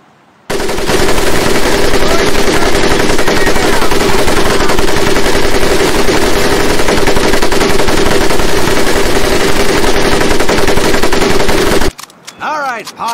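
An M1919A4 .30 caliber machine gun fires in Medal of Honor: Pacific Assault as one long, loud, unbroken burst lasting about eleven seconds, then cuts off into brief voices.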